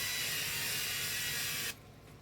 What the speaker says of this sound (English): I'm going to give this a quick spray with the olive oil.